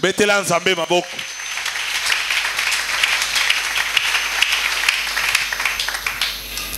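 A church congregation bursts into sustained applause after a brief spoken line, dense clapping filling the room at steady loudness with scattered voices mixed in.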